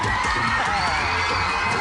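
A television studio audience cheers, whoops and shouts for a 1995 Carmen Sandiego game show, a dense, loud, continuous wash of crowd noise with no break.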